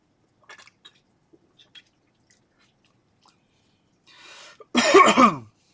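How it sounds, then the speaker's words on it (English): A single loud cough up close, preceded by a breathy rasp and a few faint clicks in near silence. "Coughing on live stream."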